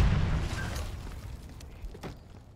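A grenade in the video game Black Ops 6 explodes with a heavy boom that rolls off and fades over a couple of seconds, followed by a few faint pops and debris sounds.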